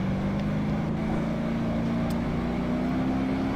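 A car engine in BeamNG.Drive drones steadily around the Top Gear test track, its pitch slowly climbing as the virtual car accelerates, loud and continuous with no voices.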